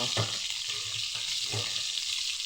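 Galunggong fish frying in a pan, a steady loud oil sizzle with occasional soft scraping and stirring knocks underneath.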